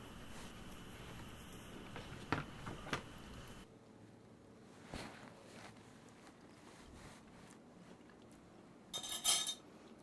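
A spoon working through corn chowder in a pot, with quiet scattered clinks and scrapes against the metal, a brief rustle, then a louder cluster of clatter near the end, all close and faint, without talk.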